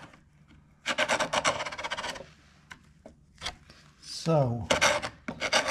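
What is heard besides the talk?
scraping old finish off a wooden window frame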